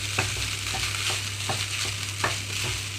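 A spoon scrapes and stirs coconut rice in a pan in several distinct strokes over a soft background sizzle and a low steady hum.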